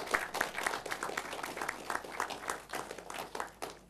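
An audience at a tech festival applauds steadily with dense, overlapping hand claps, a moderate-volume round of applause carrying on without pause and no voices over it.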